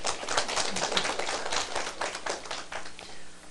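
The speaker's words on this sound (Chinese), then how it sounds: "拍手" An audience at a Taiwanese political lecture claps their hands together, with sharp, irregular claps close by. The claps pile up over a few seconds and then thin out.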